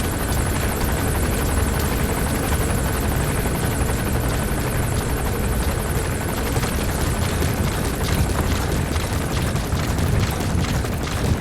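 A security forces' patrol helicopter passes overhead in Metal Gear Solid 5, its rotor chop steady and loud for the whole stretch with a constant engine whine layered on top.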